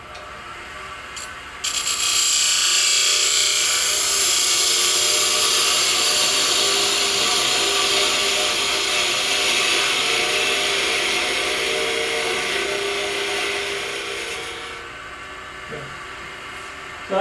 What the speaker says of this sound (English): This is I think it's a 1/2 inch skew chisel.